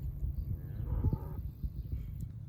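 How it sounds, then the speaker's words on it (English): A farm cow moos in a low, drawn-out call, close and fairly loud over a steady rumbling background. "I cannot stand a back-talking cow"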